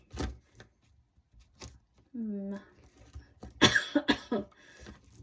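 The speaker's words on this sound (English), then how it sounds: "sorry about the coughing" Several sharp coughs burst out near the microphone, scattered between short pauses and a brief voiced throat sound.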